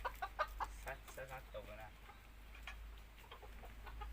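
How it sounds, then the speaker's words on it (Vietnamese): Farmyard chickens with a rooster, soft clucks and short calls that come close together and then fade into a faint background with a steady low hum. "con kia là gà 3 năm rồi"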